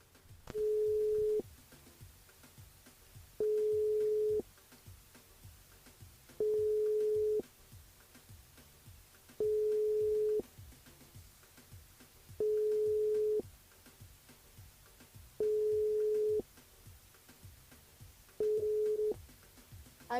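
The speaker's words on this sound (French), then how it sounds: "On appelle Laura du côté de Saint-André" Telephone ringback tone heard as a radio show calls a listener on air: seven evenly spaced single-pitch beeps about three seconds apart, each lasting about a second, with quiet gaps between.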